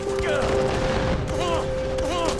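Rapid bursts of gunfire and muffled explosions from mortars in a Far Cry custom map, dense and continuous, with a steady electronic tone running underneath and no clear speech.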